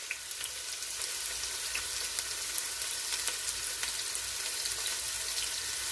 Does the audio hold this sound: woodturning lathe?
no